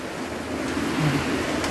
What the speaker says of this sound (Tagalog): Lakas oh, lakas ng ulan.